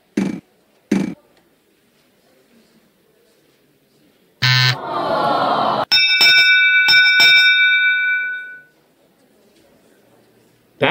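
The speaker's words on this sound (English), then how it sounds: "That sound means final spin." In a Wheel of Fortune video game, the final spin signal sounds as a loud electronic buzz followed by a bright, bell-like chime of sustained tones lasting a few seconds, with brief voice fragments before and after.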